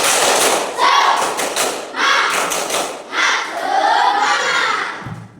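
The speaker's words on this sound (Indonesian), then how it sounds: "Tepuk semangat." A standing school class does a rhythmic spirit clap together, heard as loud, dense bursts of many hands clapping in quick patterns mixed with children's shouting, filling a classroom in several surges.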